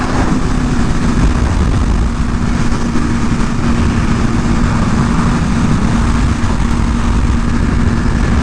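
A 2023 BMW S1000RR M engine roars steadily while riding, a loud constant drone with rushing wind, no pauses or gear changes standing out.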